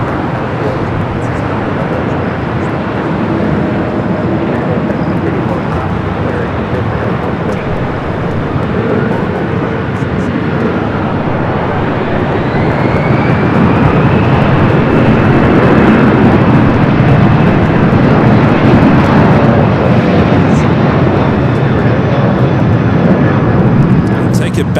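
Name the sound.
Japan Airlines Airbus A350-1000 arriving from Tokyo Haneda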